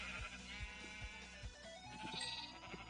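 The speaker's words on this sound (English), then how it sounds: "I did not need to shear the red sheep, actually." Sheep bleats from Minecraft gameplay during wool shearing, a few short nasal calls over steady background game music and low thumping beats, no speech.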